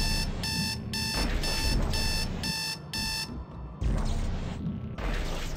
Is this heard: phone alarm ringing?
yes